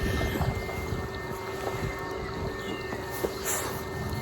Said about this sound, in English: But that breeze is like